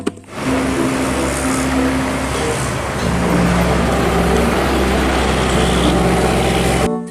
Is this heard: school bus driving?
yes